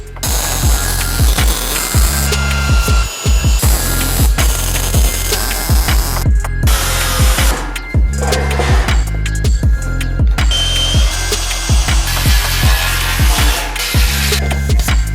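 A Bridgeport milling machine in its first use, cutting with a loud, steady, rapid pulsing chatter and a continuous mechanical drone, close by and unbroken.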